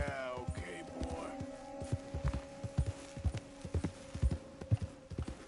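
A horse trots in Red Dead Redemption 2, its hooves clip-clopping in a quick, steady rhythm over a low hum, with faint tack and ambient sounds behind.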